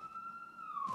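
An ambulance siren wails faintly in the distance, a single steady tone holding for about a second before sliding into its next pitch.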